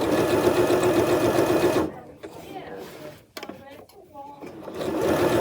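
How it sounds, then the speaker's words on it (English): Sewing machine running steadily as it stitches binding onto a quilt, a loud continuous whir for about two seconds, then stopping while someone talks, and starting up again near the end. "I'm just doing one continuous stitch all the way around."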